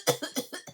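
A voice imitates coughing from a concert audience with five quick, dry coughs in a steady rhythm. They are close and moderately loud, with no other sound.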